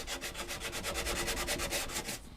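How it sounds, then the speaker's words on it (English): Sandpaper being scrubbed rapidly back and forth across carpet to clear clogged grit during guitar-side sanding, a steady run of about fourteen quick, soft, raspy strokes, close and fairly quiet. "You can extend the life of your sandpaper a little bit by rubbing it on the carpet when it starts to get clogged"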